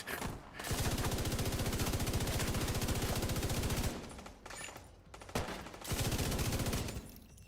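Sustained automatic gunfire in a video game, a long rapid burst for several seconds, a pause, then shorter bursts and another sustained stretch of rattling fire, loud and continuous.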